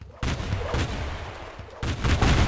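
Bombardment in the video game Of Guards and Thieves lands as a run of heavy, close explosive bursts in quick succession, with dense booming impacts overlapping throughout.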